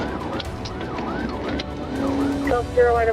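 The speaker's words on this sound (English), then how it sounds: "emergency lights and sirens were activated" A police cruiser's siren wails in repeated rising and falling sweeps under road and wind noise, then changes to a higher, faster yelp near the end.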